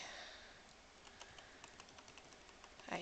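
Computer keyboard keys click in quick, irregular bursts during Guild Wars 2 play, faint and close against a quiet background, with a louder clatter at the end.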